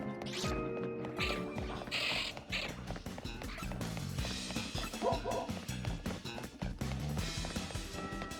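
Cartoonish dog barks from a Pokémon Legends Z-A game, a few short yips and woofs amid busy game music and effects, with talk running underneath.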